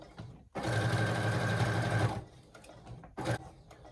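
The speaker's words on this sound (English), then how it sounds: "And begin sewing." A sewing machine stitches a T-shirt seam in a loud, close whirring burst of about one and a half seconds, followed by a pause, a soft handling noise and a second short run of stitching.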